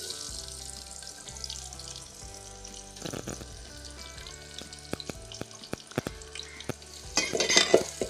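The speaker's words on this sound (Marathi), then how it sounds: "मी तेल तापवलं होतं, त्यामध्ये आता मी टाकते हा कांदा आणि कढीपत्ता एकत्र." Onion and curry leaves frying in hot oil in a pot while a sprouted moth bean curry is cooked at home: a steady close sizzle with stirring clatter, growing louder and more crackly near the end, with no talk.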